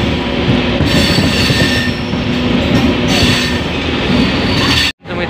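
A train rolls into Palghar station in India, a loud steady rumble of wheels and carriages with squealing metal, heard close and continuous without talk before a brief sudden dropout near the end.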